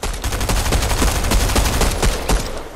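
Pistol gunfire in Fortnite, a rapid string of loud shots fired in quick succession, dense and close, continuing almost without pause.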